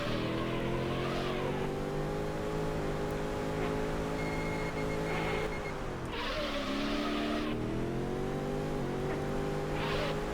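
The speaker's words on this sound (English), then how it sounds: "it is a 1960s muscle car" A 1960s muscle car engine in the Auto Modellista racing game drones steadily and loudly throughout, its pitch rising and falling with gear changes and dipping briefly around the middle before climbing again.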